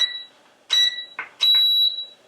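Two sharp, high electronic beeps from a LiteHawk Neon drone controller, each a short steady tone with a brief lower chirp after it, close and clear in a quiet room.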